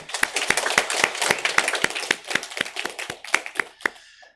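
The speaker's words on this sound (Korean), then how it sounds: "우리 하나님께 영광의 박수 올려드리겠습니다." Church congregation clapping after a hymn during a Sunday worship service, sharp distinct claps falling in a brisk, fairly regular rhythm, close and loud, then trailing off at the end.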